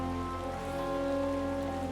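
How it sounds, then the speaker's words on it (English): Rain falls in Final Fantasy XIV during the All Saints' Wake event, a steady, even hiss of drops that runs for the full two seconds with no talk, beneath sustained tonal hums, probably the game's background music. "Oh, it's raining again."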